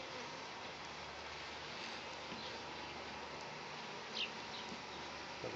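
Bees buzzing around an open beehive being worked by a beginner beekeeper, a dense continuous drone close by, steady and unbroken throughout.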